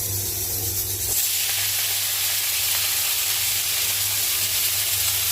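Black cumin seeds and dried lentil dumplings (bori) crackle and sizzle in hot mustard oil, a steady close frying hiss that runs unbroken throughout.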